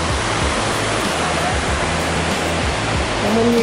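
A waterfall in a gorge roars as a steady, loud, broadband rush of falling water, continuous and close throughout with no voices.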